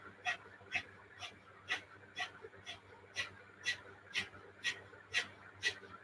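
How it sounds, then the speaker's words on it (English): Rapid yoga breath of fire during a bedtime yoga session, with forceful puffs through the nose: about a dozen short, breathy bursts in a steady quick rhythm, close and fairly soft, alone. "Good, powerful dog breath of fire."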